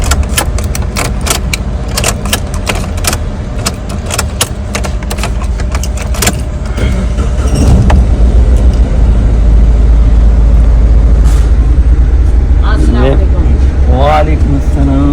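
A car with fault codes for fan control and intake air temperature circuits has its ignition switched on and off, giving a series of sharp clicks and ticks, followed by a loud, steady engine hum, while someone talks over it.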